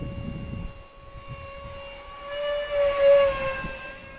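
A Freewing F-86 Sabre RC jet with a 64mm electric ducted fan whines at a high, steady pitch from a distance in open air, swelling louder briefly as it passes.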